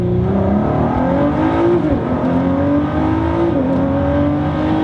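A 2020 Ford GT accelerates hard past the listener, its engine note climbing steadily and loud throughout with a continuous roaring rush and rising pitch sweeps, no talk.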